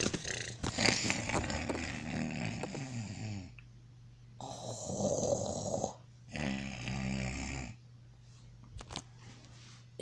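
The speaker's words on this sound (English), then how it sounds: "Is he snoring?" A person snores in long, rasping breaths, three or four repeated cycles close by with gaps between, alone apart from a faint background hum.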